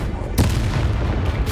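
A Confringo blast spell fired during combat in the game Hogwarts Legacy, heard as a loud booming burst that bursts in abruptly and rolls on with a rumbling tail, followed by a second lighter impact near the end.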